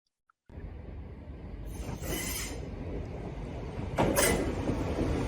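A Chiltern Railways Class 16X hybrid train runs in diesel mode. A steady engine rumble starts abruptly and keeps going, with two bursts of hissing mechanical noise layered over it, moderately loud and close by.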